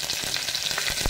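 Urad dal and curry leaves hit hot oil in a brief, bright hiss of sizzling with a few popping crackles, close and steady.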